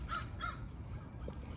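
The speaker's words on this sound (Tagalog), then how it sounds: "Alam niyo yung tunog yung uwak na yan." A crow caws twice in quick succession outdoors, a harsh, moderately close call followed by quiet background ambience, with no speech.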